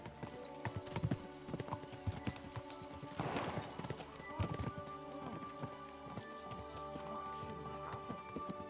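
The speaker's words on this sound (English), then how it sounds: "We should spur the horses on." Horses' hooves clip-clop in a steady trotting-to-galloping rhythm, moderately close, with an occasional whinny among layered game music and ambience in the medieval video game Kingdom Come: Deliverance 2.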